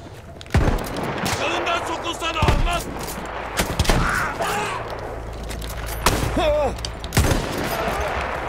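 Battlefield 1 gunfire: sharp loud shots and bursts cut through a dense, noisy battle mix, several hard impacts spread across the scene, with a voice talking over the action.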